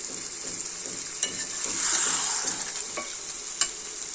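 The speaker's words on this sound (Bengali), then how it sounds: "আমি এখানে আলু আর মুরগির পা, গিলা কলিজিগুলো একসাথে দিয়ে কষিয়ে ফেলছি" Chicken gizzards, liver and feet fry with potatoes and spices in a pan, a steady close sizzle broken by scraping stirs and a few sharp clinks of a utensil against the pan.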